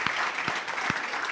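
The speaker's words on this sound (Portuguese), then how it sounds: "Das palmas." Audience applause at a live cooking session at a restaurant industry congress, a steady wash of many hands clapping that fills the whole short stretch, loud and close with no talk over it.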